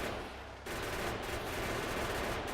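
Rapid-fire turret shooting from Factorio, a dense, continuous rattle of fast shots that runs without a break. Firing is loud and close, with a brief dip in intensity near the start.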